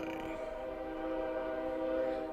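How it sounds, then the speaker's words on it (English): A train in a video game rolls by with a sustained tonal hum and steady rumble, fairly quiet and even throughout with no talking. "And we get the wonderful sound of a train coming by."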